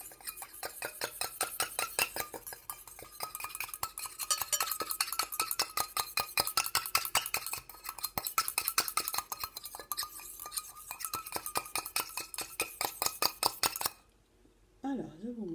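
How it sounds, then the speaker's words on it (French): A homemade hair growth oil mixture is stirred briskly in a container, giving a rapid, regular run of close metallic clinks that goes on for a long stretch, then stops abruptly just before the end. "Et on va mélanger tout ça."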